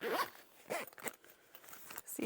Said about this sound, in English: And you can zip it.